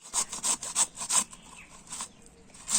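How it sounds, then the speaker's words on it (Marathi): Raw unripe mango rubbed against a kitchen grater, giving a run of rhythmic rasping strokes, close and fairly loud, that slow and thin out toward the end. "आपल्याला असं एकाच पद्धतीने किसून इथे आंबा असा व्यवस्थित किसून घ्यायचा आहे"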